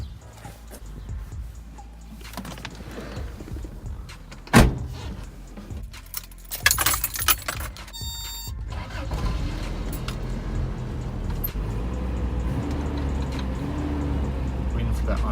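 A Toyota engine on automatic choke turns over and catches with a brief burst, then settles into a steady, loud idle that fills the rest of the clip; faint handling noises and a jingle of keys come before the start.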